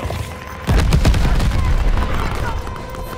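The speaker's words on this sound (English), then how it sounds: "Friendly fire bomb is on inbound" Heavy bomb blasts and gunfire boom out in a Call of Duty Vanguard match, a loud low rumble bursting in partway through and rolling on under the fight noise.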